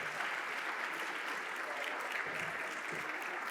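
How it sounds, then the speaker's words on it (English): An audience at an Italian Cultural Society evening applauds steadily as Francesca Casazza is introduced, a continuous wash of many hands clapping at moderate distance, fairly quiet, with a few voices underneath. "Please, a big applause"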